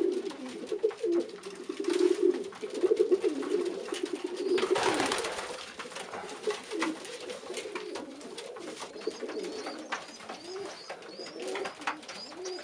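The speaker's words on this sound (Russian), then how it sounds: "Вот прилетел опять чужой голубь." Pigeons cooing repeatedly at a nest where a mother is feeding growing chicks, close and fairly loud, with soft fluttering and rustling around the calls.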